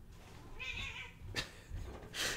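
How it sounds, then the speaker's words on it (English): A cat yowling and meowing in agitation while being chased indoors, with a couple of drawn-out cries and sharp bursts over a soft background hum, fairly close. "My cat's being chased right now."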